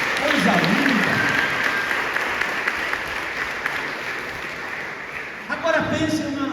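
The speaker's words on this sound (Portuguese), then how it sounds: "Um aplauso, gente." Applause from the congregation at a Sunday morning youth camp church service, a sustained wash of clapping with a voice speaking over it near the end.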